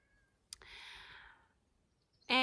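A cat meows outdoors in a quiet setting, one drawn-out meow followed by a second sharper, louder call, with no talking.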